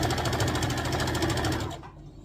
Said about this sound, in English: So just going to finish up sewing this down.